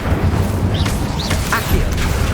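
An Incendio fire spell cast in Hogwarts Legacy, a loud rumbling burst of flame with whooshing, crackling bits over a heavy low roar, short and continuous.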